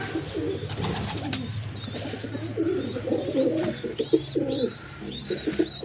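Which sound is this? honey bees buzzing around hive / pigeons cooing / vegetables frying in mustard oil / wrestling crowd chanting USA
pigeons cooing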